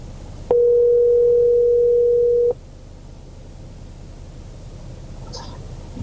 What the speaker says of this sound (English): Calling Parker visuals